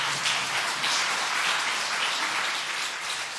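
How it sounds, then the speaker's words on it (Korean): A church congregation applauds together at a Sunday afternoon service, a steady, dense wash of clapping that holds evenly from start to finish with no voices over it. "박수 한번 해주세요"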